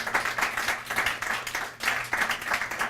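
A poetry night audience claps in a steady, moderately loud round of applause, individual hand claps audible in a fairly small crowd.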